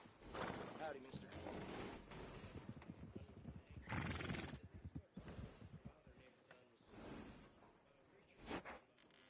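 A horse in Red Dead Redemption II neighs and whinnies several times with clip-clop hooves in between, set against a busy game soundscape and speaking voices.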